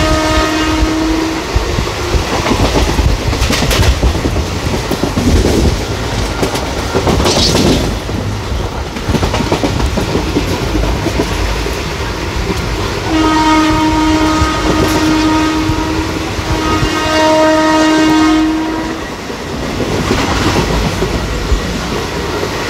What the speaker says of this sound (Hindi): हमारी ट्रेन हौले हौले कॉशन को क्रॉस कर रही है।